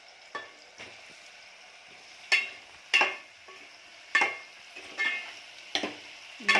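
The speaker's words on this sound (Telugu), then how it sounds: "మంచిగా కలుపుకొని ఒక 5 మినిట్స్ మూత పెట్టేస్తే ఫ్రై అవుతుంది" Tomatoes frying with onions and grilled chicken in a pan, heard as a quiet sizzle broken by several sharp bursts of stirring and scraping at irregular intervals, close up with no voices.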